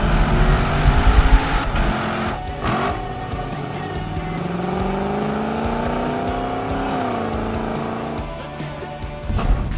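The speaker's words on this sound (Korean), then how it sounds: "패들 시프트로 다운 시프트 몇 번만 해봐도" A Lexus LC 500 Convertible's big V8 engine roars loudly, its pitch climbing and dropping through several quick paddle-shift downshifts with sharp blips between gears.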